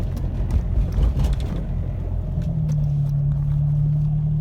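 Acura RSX Type S engine running while the car is driven on a Hondata basemap tune with a suspected faulty throttle position sensor; steady low rumble that settles into a sustained droning hum, close and continuous with no talking.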